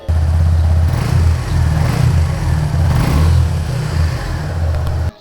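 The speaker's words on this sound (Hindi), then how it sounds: "एक बार एग्जॉस्ट नोट सुन लो" A Suzuki V-Strom SX 250 motorcycle with a 250cc engine and stock exhaust runs close by after starting, a steady low throbbing exhaust note with slight swells that cuts off abruptly at the end.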